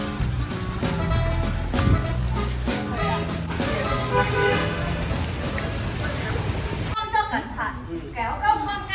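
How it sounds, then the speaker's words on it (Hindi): Heavy rain pours steadily on a street in Hanoi, Vietnam, a dense close hiss with traffic and a car horn mixed in, under someone talking throughout. "रेनिंग, बहुत बारिश हो रही है"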